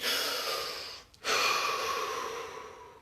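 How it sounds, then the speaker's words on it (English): One deep breath during a guided relaxation: a long audible inhale, a brief pause, then a slow airy exhale, close and alone. "Deep breath."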